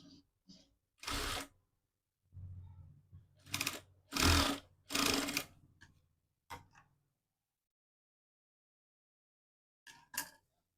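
Sewing machine stitching the lining to the waistband of a long frock dress, heard as several short separate bursts of running stitches with pauses between them, then a brief final burst after a quiet gap.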